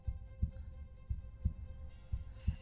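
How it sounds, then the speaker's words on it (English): A heartbeat sound effect plays in the video game Tomb Raider III, a soft, low double thump repeating roughly every half second. It sits over a faint steady hum with no voices. "Is that heartbeat supposed to be there?"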